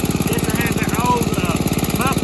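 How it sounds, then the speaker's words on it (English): A 1968 Snapper Comet 30 riding lawn mower, a barn find, runs steadily with a fast, even pulsing engine beat, loud and close, while someone talks over it. "That baby's a purring like I can. She's a little bit louder than the other lawnmowers."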